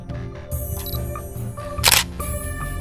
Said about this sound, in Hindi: तब उसने कैमरा का शटर साउंड सुना